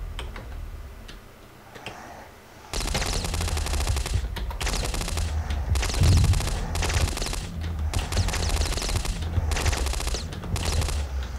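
Rapid automatic Uzi and shotgun fire from the Boxhead 2Play game, loud bursts of chattering shots in repeated volleys, beginning after a quiet stretch.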